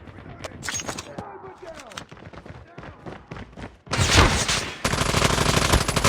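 Call of Duty gunfire: scattered shots and clicks early on, then loud sustained bursts of automatic fire over the last two seconds, close and dense, mixed with game sounds.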